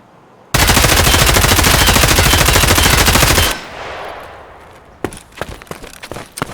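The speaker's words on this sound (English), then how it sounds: "We'll shoot right over the boxes." An M4 assault rifle in Escape From Tarkov fires one long, loud, unbroken automatic burst of about three seconds. A decaying echo follows, then a handful of sharp clicks and clatters.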